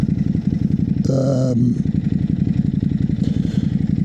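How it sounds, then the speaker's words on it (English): A Ducati Hypermotard motorcycle engine runs steadily with a low throbbing pulse on a Brighton street, a brief tonal horn-like burst cutting in partway through. "Hyper motard. Bit of a hooligan bike"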